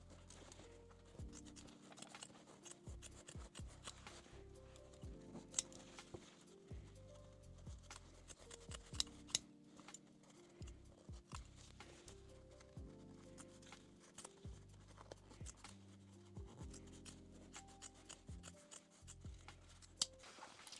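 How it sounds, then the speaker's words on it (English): Scissors trim the seam allowance on lace and fabric for a thong, with a series of faint, close snips and soft rubbing sounds repeating in irregular rhythm. "Then trim the seam allowance."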